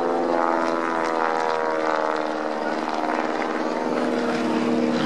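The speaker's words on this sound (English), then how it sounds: "if you look up above the aircraft that are departing to the back of the display area" First World War propeller aircraft depart at the Farnborough International Airshow, their engines giving a loud, continuous droning roar that stays steady throughout, without voices.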